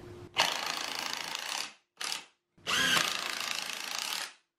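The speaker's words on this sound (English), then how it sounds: "I'm just going to use some 3-inch screws to hold the frame together" A power drill drives 3-inch screws into a wooden box shelf frame in three buzzing bursts: two long runs split by a short one, loud and close with no talking.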